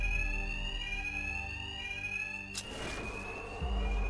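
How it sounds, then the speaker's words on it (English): A loud, continuous electronic fire alarm rings in Batman: Arkham Knight, a sustained steady tone that carries on without pause while a heavier rumbling impact cuts in partway through. "Two-Face's thugs won't hear me over the alarm"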